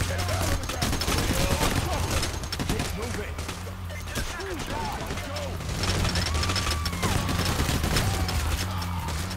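Gunfire in the heist video game Payday: The Heist, with rapid bursts of automatic shots and single cracks that run almost without pause, loud and dense, while someone talks in German over the shooting.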